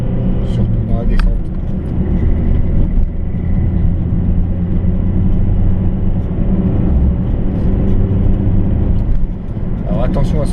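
A car drives up the Col de Romme mountain road above Cluses, producing a steady, loud engine and road rumble from inside the cabin, with faint rattles and a voice speaking over it.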